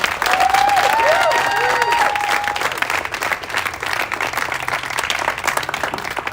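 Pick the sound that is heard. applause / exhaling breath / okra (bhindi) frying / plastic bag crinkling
applause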